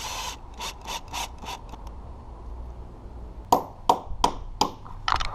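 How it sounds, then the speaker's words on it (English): Screws driven into wood to join a corner for a wood rot repair, heard as a few short bursts of a cordless driver followed by sharp clicking ratchets, close and loud with quiet gaps between. "Then we're going to go ahead and put a couple screws in."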